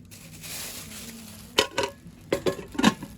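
Aluminium pots being handled on a store shelf: a few sharp metallic clanks and knocks in the second half, close by, after a quieter stretch of soft rustling.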